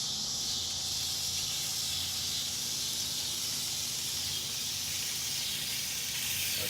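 Thin-sliced ribeye sizzling on a hot Big Green Egg, a steady bright hiss that stays even and continuous, near and moderately loud with no talking.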